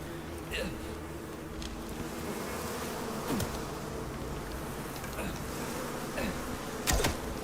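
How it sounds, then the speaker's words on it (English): Bees buzz continuously in the Icarus video game, a close, steady insect drone with a few brief louder passes rising above it, while a person talks. "Here we go with the bees."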